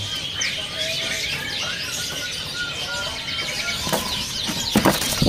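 Birds at a bird market, with repeated chirps and short whistled calls over a busy background, some wing flapping and clucking fowl, and a sharper burst of sound near the end.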